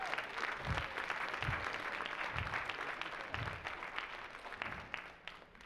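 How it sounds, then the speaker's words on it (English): Steady applause from a church congregation honoring a couple married 56 years fills the room, a dense, continuous clapping wash at even strength that tapers slightly near the end. "Give them a round of applause"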